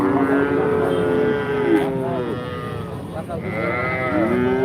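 Cattle with calves moo loudly and repeatedly nearby at the Kaitala cattle market in Tangail, long drawn-out lowing calls that overlap and follow one another.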